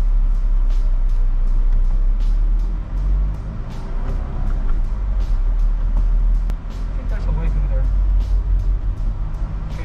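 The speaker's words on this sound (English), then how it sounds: "See, I'm in second gear, I'm going uphill and I'm doing about 1000 RPM." Maxus T60 pickup driving uphill in second gear at low revs, its engine a steady low drone mixed with road and tyre rumble from inside the cab, continuous throughout, with someone talking over it.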